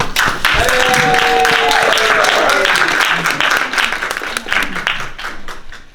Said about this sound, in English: let's have a round of applause for the champ from Brooklyn, New York.